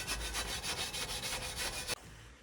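Sharp edges being smoothed off a metal repair patch for a hole in a Land Rover Defender: rapid, rhythmic abrasive strokes, close and steady for about two seconds, then stopping abruptly.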